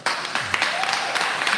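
A live audience claps and applauds continuously at a venue performance, a dense and steady wash of many hands close around, with no speech on top.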